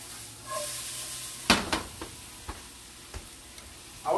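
Vegetables seasoned with black pepper sautéing in a pan, a soft sizzle broken by several scattered clicks and knocks of utensil against pan, one louder clatter early on, no speech.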